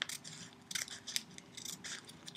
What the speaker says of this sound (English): we're going to begin cutting just the top part. Make sure not to cut through the whole body, but just through this first layer